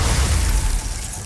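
A Glacius freezing spell is cast in Hogwarts Legacy, heard as a short, loud, dense burst with a crackling, icy rush that fades quickly. It stands alone with no talk.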